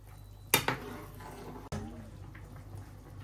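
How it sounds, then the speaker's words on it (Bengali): Potatoes are dropped into a pot of simmering fish curry, giving two short clattering plops about a second apart over a quiet, faint background. "ঝোলটা ফুটে উঠছে এখন এই যে আলু দিয়ে দিলাম"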